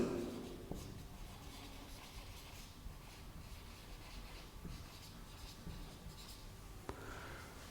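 Quiet scratching of writing on a board during a maths lesson, a run of soft strokes with a sharper tap near the end, faint and close.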